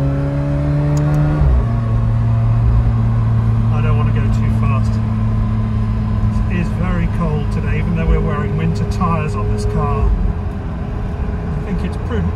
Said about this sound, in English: Listen to that V8 behind me.